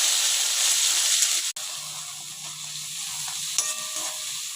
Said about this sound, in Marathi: तेल छान तापत आलं की कांदा आणि टोमॅटो टाकायचे.